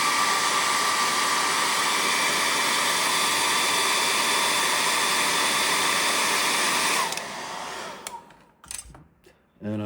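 A hair dryer runs steadily and loudly, close by, drying paint on a hand-carved cedar waxwing bird, then cuts off near the end, leaving brief handling noises.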